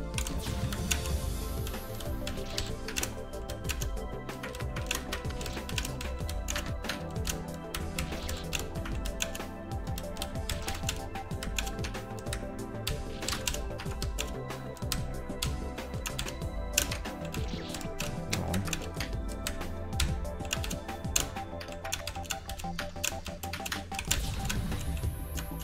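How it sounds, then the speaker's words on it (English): Continuous rapid clicking of a computer keyboard during a speedrun tournament, with dense irregular keystrokes close by for the whole stretch and faint sounds behind. "I actually listen for the sounds of my keyboard"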